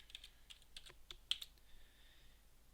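Quiet clicking of fingers typing a MySQL command on a computer keyboard, a short irregular burst of close keystrokes with no talking.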